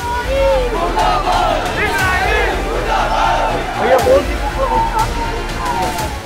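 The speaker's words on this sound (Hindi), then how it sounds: "हाथ में हसन नसरुल्लाह की तस्वीर लेकर जिंदाबाद के नारे लगाए" Thousands of Shia Muslim marchers in a night protest procession in Lucknow chant slogans in unison, a loud, dense crowd roar with rising and falling shouted calls, close and continuous.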